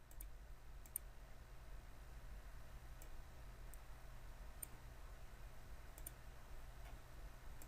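Sparse, faint computer mouse clicks sound as sheet metal parts are modelled in SolidWorks, single and paired taps spaced irregularly against a quiet background hum.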